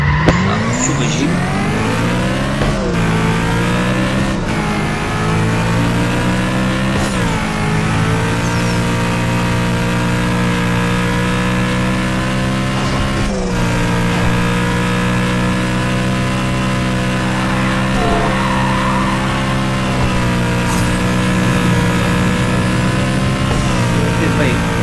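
A powerful race car in the mobile racing game Need for Speed No Limits, played on a Samsung Galaxy A8 2018, roars at sustained high revs with brief gear-shift dips and tire squeals, loud and constant throughout.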